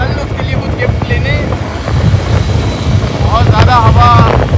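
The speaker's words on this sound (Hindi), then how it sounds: "बहुत ज़्यादा हवा चल रही है" Strong wind buffets the microphone outdoors, a constant loud low rumble with gusts, while people talk faintly underneath.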